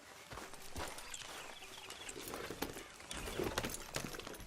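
Horse hooves clip-clop at a walking pace in Red Dead Redemption 2, fairly quiet, with irregular thuds over faint outdoor ambience.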